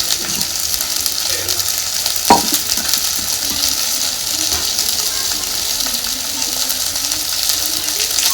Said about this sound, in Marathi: आता ह्याच्यात आपल्याला घालायचंय पाणी.